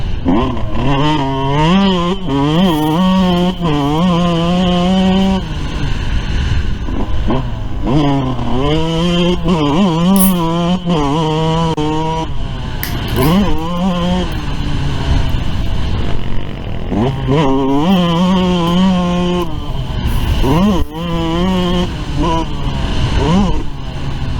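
A Yamaha YZ125 two-stroke motocross bike rides a track, its engine repeatedly revving up and dropping off through corners and jumps, loud and close as heard from the rider, with someone talking over it.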